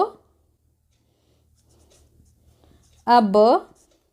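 A pen scratches faintly on paper during a math lesson, soft and intermittent in a quiet room, before a voice briefly speaks.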